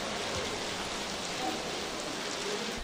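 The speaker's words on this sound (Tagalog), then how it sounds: "Halos zero visibility sa Taal Lake dahil sa malakas at pabugso-bugsong ulan dulot ng habagat" Heavy, gusty monsoon rain pours over Taal Lake in Laurel, Batangas. It is a dense, steady roar of broadband hiss that fills the whole clip, with no voices.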